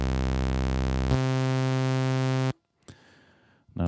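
Dry basic sawtooth patch from an Access Virus synthesizer: a bright, buzzy sustained tone rich in harmonics that steps to a new pitch partway through, then cuts off, followed by brief faint noises.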